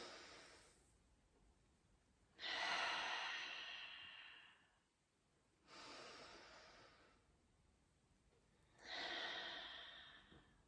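Deep, slow breaths during a neck and shoulder mobility exercise: three long, airy inhale-exhale swells spaced a few seconds apart, close and fairly quiet, with no talking.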